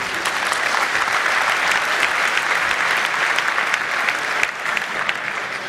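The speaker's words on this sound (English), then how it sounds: "Give him an applause." An audience at a hacker conference talk claps in a dense, loud, continuous round of applause that lasts the whole stretch, with no speech over it.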